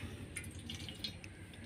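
Water is poured into a bowl with a candle stuck inside for an air pressure experiment, making a faint, brief trickling and dripping close by with no voices.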